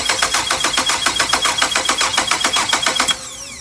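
A car engine cranks over on its starter motor during a voltage drop test on the starter cable, giving a fast, even, rhythmic whirring chug of about eight beats per second that stops abruptly near the end.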